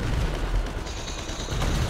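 Tank cannon fire in GTA 5, booming blasts and explosive rumble with crackling debris, loud and close, a couple of heavy shots across a brief burst of gunfire.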